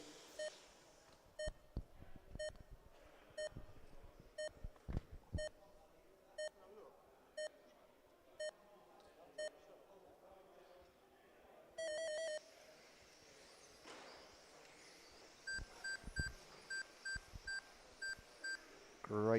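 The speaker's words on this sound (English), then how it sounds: "Here come the beeps." Electronic start beeps for a race, a regular series of short tones repeating about once a second over quiet background and a commentator, followed by further beeping and rising noise as the field gets away.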